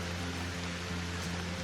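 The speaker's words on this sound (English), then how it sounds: "now it's starting to rain" Rain begins falling on a hiking trail as a steady, even hiss, faint and unbroken through a brief moment, with a low hum beneath and no talking.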